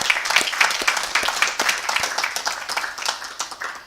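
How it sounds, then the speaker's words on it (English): Hearty audience applause for children returning to school, a dense run of crisp, close handclaps sustained throughout, with individual sharp claps standing out, no voices heard. "So can we give a very hearty clap for"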